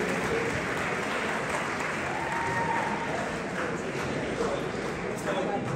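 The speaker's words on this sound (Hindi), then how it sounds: "बहुत सी तालियां" A gathered audience applauds to welcome arriving guests, producing a thick, continuous roar of clapping that holds at a steady, loud level for several seconds without pause.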